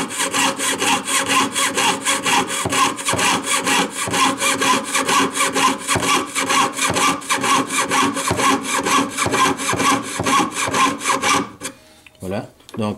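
A handsaw cuts through wood along a marked pencil line in steady, rapid back-and-forth strokes, loud and close throughout, stopping abruptly near the end with a few faint knocks.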